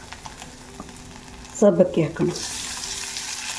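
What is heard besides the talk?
frying potatoes and sago in a tempering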